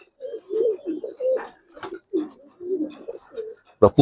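Giribaz pigeons cooing close by in a series of soft throaty phrases with short pauses, ending in a sharp flutter or knock.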